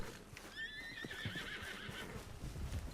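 Horse in Red Dead Redemption roleplay giving a clear, fairly close whinny with a wavering rising-and-falling call, soft hoof clip-clops around it.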